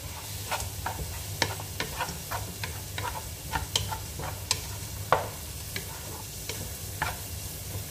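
Garlic sizzles in a frying pan while being stirred, making a steady crackling hiss punctuated by a string of sharp scraping clicks from the utensil, with no voices present.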